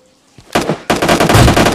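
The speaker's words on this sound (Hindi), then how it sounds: "तो मैंने दे दिया यहाँ AWM का शॉट" An AWM sniper rifle fired in PUBG Mobile Lite: a quiet start breaks into a sharp, loud blast, then a second heavy report followed by sustained rumbling noise, with no speech.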